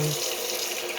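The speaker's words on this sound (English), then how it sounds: "Clean the rice first. Pour away the white starch" Water pours and splashes as Thai jasmine long-grain rice is rinsed and the starchy water is tipped away; a brief, close, continuous running-water sound of about one second.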